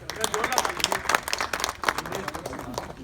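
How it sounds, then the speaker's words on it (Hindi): Audience at a natural zero-budget farming gathering in Sevapuri, Varanasi clapping, a dense, uneven patter of hands from a nearby crowd with voices talking underneath. "आप लोग ताली बजाइए भाई।"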